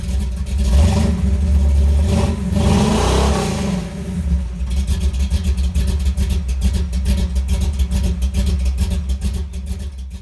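Stock exhaust on a 2019 Camaro SS with the 6.2 liter V8 and no dual mode exhaust, a loud deep rumble that swells as the engine revs, then settles into a steady idle burble, close by with no talking.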